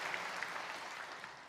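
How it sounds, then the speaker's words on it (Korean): A church congregation applauds in praise, a steady wash of clapping heard from a distance, soft and even for the whole moment. "우리 하나님께 영광의 박수를 드리겠습니다"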